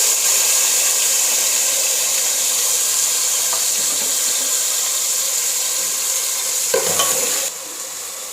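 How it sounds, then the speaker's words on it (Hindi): Garlic, tomato, onion and green chillies sizzle and fry in hot oil for a chicken malai handi, a steady close hiss that carries on throughout, with a brief clatter near the end before it drops off. "जब ऑयल गर्म हो जाए फिर हमने इसमें लहसुन, टमाटर, प्याज और हरी मिर्चें ऐड कर देनी है"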